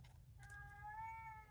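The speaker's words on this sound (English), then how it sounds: "You can hear my cat in the background again." A single drawn-out cat meow rises over a low background hum, faint and somewhat distant.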